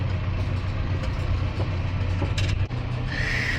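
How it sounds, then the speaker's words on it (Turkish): A tractor engine runs at night on a farm road during large-scale wheat sowing in Turkey, giving a steady low rumble that holds close and even throughout, with a brief dip near the end. "Diğer traktör de geliyor o da takipte."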